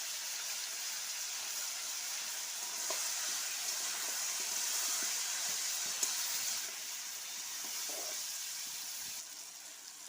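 Mutton frying in a pan with salt and turmeric gives a soft, continuous sizzling hiss, faint and steady throughout, with a few light stirring scrapes.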